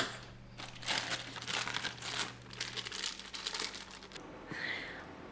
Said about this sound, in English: take the tin foil off and cook it for another 15 minutes to crisp up the cheese